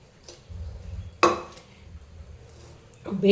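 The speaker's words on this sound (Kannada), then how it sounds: "ಒಂದು ಕುಕ್ಕರಲ್ಲಿ ಹಾಕ್ತೇನೆ" Washed cucumber pieces go into a metal pressure cooker, giving a sharp clatter of vegetables against the pot near the middle and more metallic knocking at the end over low kitchen rumble.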